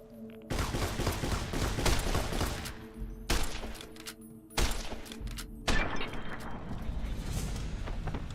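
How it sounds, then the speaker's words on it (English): Heavy riot shotgun blasts in Fallout New Vegas with a survival overhaul mod, several loud booming shots spaced a second or so apart, each trailing into dense rumbling noise and mechanical clatter. "So that's a riot shotgun"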